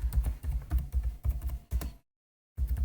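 Rapid typing on a computer keyboard, close and clear, with bursts of key clatter, a short silent pause, then more keystrokes.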